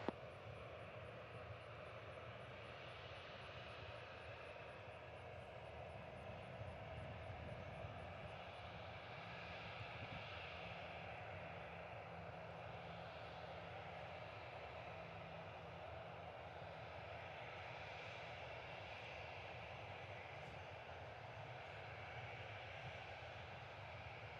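A fixed-wing airliner on landing approach passes overhead at Reagan National Airport, heard as a steady, broad, muffled engine roar that holds at a fairly even level throughout, with no voices.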